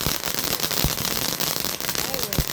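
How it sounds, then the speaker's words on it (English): Fireworks crackle and pop outdoors in a dense, continuous burst of sharp bangs, loud and close, with voices talking over them. "Can you light the 1, firework?"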